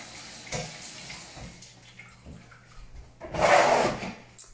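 Hands rinsed under a running kitchen tap after handling chicken croquettes, with brief splashes early and a louder gush of water near the end.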